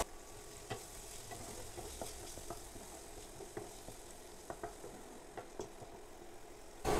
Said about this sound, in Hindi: इसको भी प्याज के साथ फ्राई कर लेंगे।